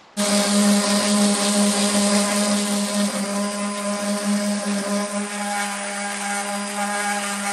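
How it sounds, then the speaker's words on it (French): An Audi A2 wheel rim being sanded with a power tool, a loud, steady high-pitched motor whine that starts abruptly and runs unbroken and close for several seconds. "Et ponçage des jantes."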